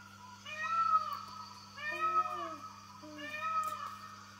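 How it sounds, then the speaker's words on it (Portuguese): Three loud, wailing peacock calls, cat-like and nasal, spaced evenly about a second apart, each rising then falling, with no other sounds around them. "Parece um gato, mas não é. É uma ave que se chama pavão."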